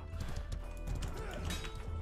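A horse in the medieval combat game Mordhau clops and snorts faintly amid the clatter of a battlefield, with brief muffled sounds under a quiet mix.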